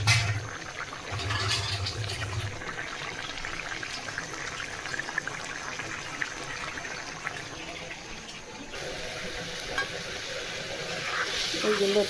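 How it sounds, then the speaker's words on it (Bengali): Shrimp sizzle and get stirred in a pan for a Bengali home-cooked dish, a continuous moderate frying hiss with occasional utensil scrapes and faint background noises, including soft muffled voices. "এই লতির জন্য চিংড়ি মাছ কষিয়ে নিচ্ছি।"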